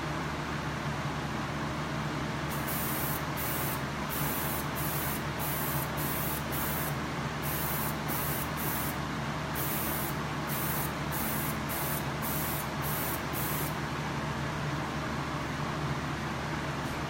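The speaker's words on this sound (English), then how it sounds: "the spray pattern is not as fine as I would prefer" A Prevail sprayer gives a steady, loud hiss of spray from start to finish, with a rapid series of short bursts layered over it in the middle section.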